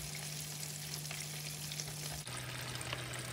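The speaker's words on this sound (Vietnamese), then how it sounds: "Thì chiên vàng thế này đó" Crispy battered chicken frying golden in hot oil, a dense, steady sizzle close up and continuous throughout with no talking.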